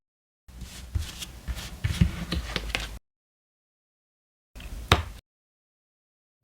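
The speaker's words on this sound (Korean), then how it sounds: "4번 분들을 위한 좋은 카드 한 장을 뽑아보도록 하겠습니다." Tarot cards being shuffled and drawn from the deck, a rapid papery riffling run of about two and a half seconds, then silence, then a shorter burst of card handling with a crisp snap.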